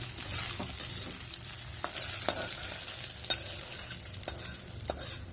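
Beaten egg frying lightly in a wok gives a continuous close sizzle, with repeated scraping stirs and spatula taps at an irregular pace and no talk over it.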